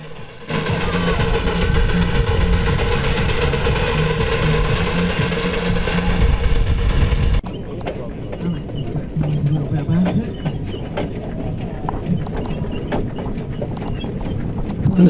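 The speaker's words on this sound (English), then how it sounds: "Well, this is an unusual little engine." A small vintage stationary engine runs steadily at a vintage farming show, a continuous mid-pitched chugging drone that is loud and close for the first half, then quieter with scattered outdoor clatter and background voices.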